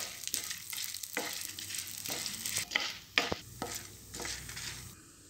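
Chana dal and dried red chillies sautéing in a pan for beetroot chutney, a steady close sizzle broken by repeated scraping stirs and a sharp clink near the middle, with no talking.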